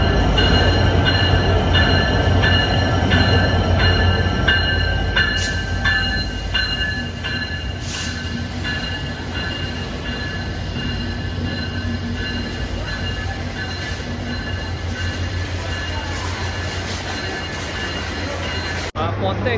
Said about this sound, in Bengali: আমাদের ট্রেন চলে এসছে ঢাকা থেকে